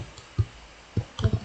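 Computer keyboard keys pressed in a short sequence, a Ctrl X shortcut followed by Enter, heard as a few soft, close clicks spaced irregularly over a quiet background.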